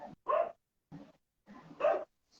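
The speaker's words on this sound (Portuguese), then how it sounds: "tem um cachorro aqui que não para de latir" A dog barks in short bursts, several separate barks with pauses between them, moderately quiet as if a little distance away.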